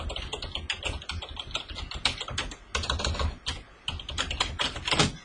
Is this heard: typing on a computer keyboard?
yes